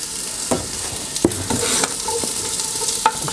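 Onions hiss and sizzle in olive oil inside a Dutch oven, a steady close frying sound broken by a few sharp stirring scrapes and taps, with no voices.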